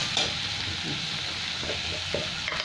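Tomatoes and ground spices fry in a pan for a Bengali fish curry, giving a steady moderate sizzle with light stirring scrapes and no voices.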